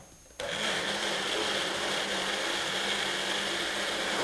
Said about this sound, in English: So now we get to use our blender and blend this up